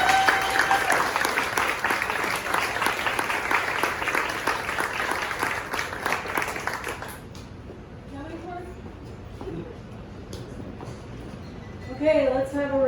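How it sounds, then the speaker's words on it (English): Audience applause after a poetry reading, a full crowd clapping steadily for about seven seconds before fading, then a voice speaking over a quieter room. "let's have a round of applause"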